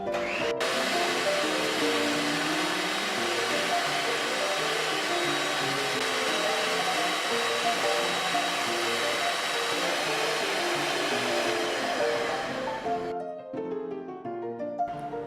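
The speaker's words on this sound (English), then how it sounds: "So let's start whipping." An electric mixer whips cream for a recipe, producing a loud, steady motor whine with a whirring rattle that runs for about thirteen seconds and then cuts off, leaving quieter sounds behind.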